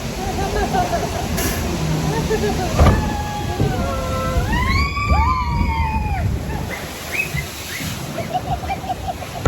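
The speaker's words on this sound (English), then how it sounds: "A delayed splash." A log flume boat on the Splash Mountain ride hits the water with a loud, delayed splash rushing up after a drop, while riders shout and exclaim over it amid the ride's music.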